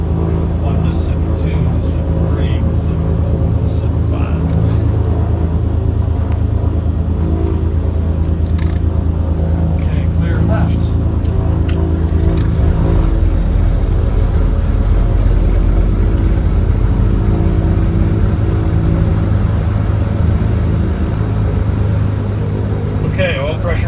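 A twin-engine Aerostar Super 700 piston aircraft's second engine runs steadily with a loud, dense drone that changes character partway through, with no talk over it.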